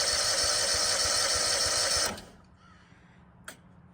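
A new 8 gpm fuel transfer pump runs with a loud, steady motor whir and rhythmic pulsing for two seconds, then cuts off, leaving quiet background and a brief knock.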